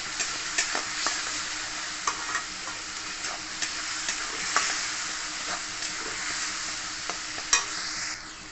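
Spice masala of salt, turmeric, cumin, coriander and Kashmiri chilli powder sizzles steadily in hot oil as a spoon stirs and scrapes the pan with regular clicks, close and fairly soft.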